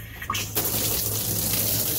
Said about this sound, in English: We have water flow.